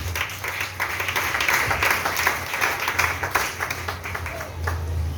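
A congregation applauds with steady, dense clapping that carries on for about five seconds, fairly loud and close.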